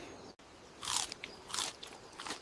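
Raw meat is chewed and bitten, giving repeated wet crunching and tearing bursts up close over a low background hiss.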